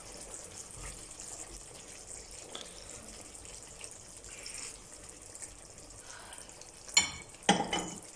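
Chickpeas added to chicken liver frying in a pan give a steady, soft sizzle with faint stirring and a couple of sharper clinks near the end.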